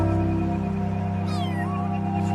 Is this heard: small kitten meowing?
yes